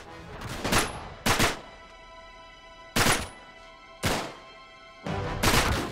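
Loud gunshots from the PS3 video game Uncharted 3, five sharp blasts spaced about a second apart, each with a brief echoing tail over a steady background hum.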